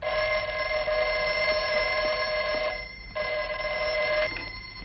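A telephone bell rings loudly and steadily in a room, its ringing broken by a short pause before it resumes.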